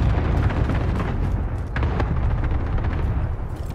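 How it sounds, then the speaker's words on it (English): Dense, continuous gunfire and rumbling explosions in a military shooter video game, a steady loud barrage with no clear gaps. "I hear gunfire, I'm pretty sure."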